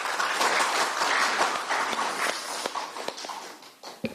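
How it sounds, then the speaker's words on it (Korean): Warm applause from an audience at a political campaign committee meeting in Gwangju, a dense clapping that thins out and fades toward the end. "다시 한번 뜨거운 박수 부탁드립니다"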